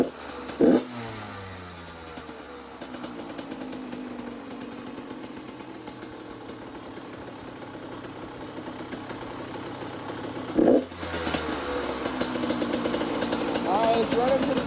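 A 2010 Yamaha YZ85 two-stroke dirt bike engine runs steadily throughout at close range, with two sharp throttle blips near the start and around the ten-second mark, while voices talk faintly in the background.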